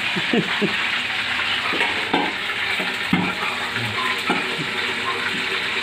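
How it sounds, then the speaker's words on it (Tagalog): Steady sizzling of sisig frying in a pan, with occasional scraping and clinks of a utensil stirring. "Piniprito na ni Mr. Chef"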